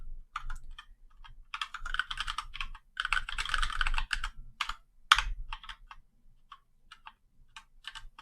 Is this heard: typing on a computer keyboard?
yes